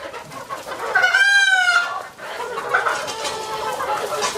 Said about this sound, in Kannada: ಇದೆಲ್ಲ 3 ತಿಂಗಳ ಕೋಳಿ ಸರ್, 3 ತಿಂಗಳ ಕೋಳಿ